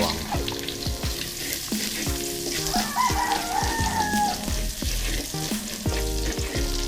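Garlic frying in a pan, a loud, steady close sizzle throughout, with tonal, music-like or rooster-like sounds layered underneath.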